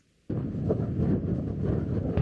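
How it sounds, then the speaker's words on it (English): After a brief quiet moment, strong wind on a beach in Lofoten suddenly roars into the microphone, a dense continuous rushing noise that stays loud to the end. "It's super windy."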